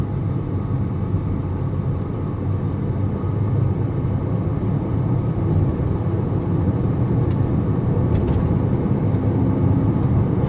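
A BMW X5 with its gearbox in relearn mode accelerates through second, third and fourth gear, heard from inside as a loud, continuous low engine and road rumble with no clear breaks, and no one speaks.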